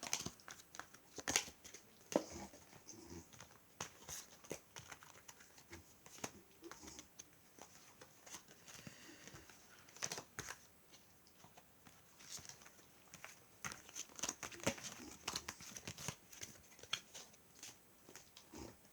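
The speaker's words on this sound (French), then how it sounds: "Donc, je range déjà ces cartes." Tarot-style cards being gathered up and put away, heard as scattered close rustling, crinkling and soft slapping of cards handled on a table, irregular and quiet throughout with no talk.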